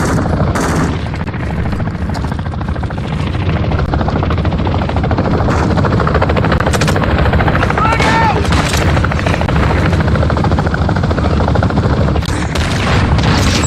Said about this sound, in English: Another chopper.